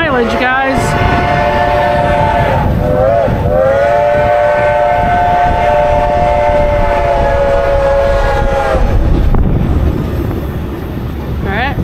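Steam locomotive 2102 on an excursion run near Pittston Yard sounds a long, loud multi-chime whistle lasting several seconds, with a shorter blast before it, over the steady rumble and clatter of the train.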